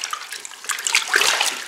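Fresh water splashes and rinses over a clogged paint spray gun filter, a continuous close hiss of running water with small splatters.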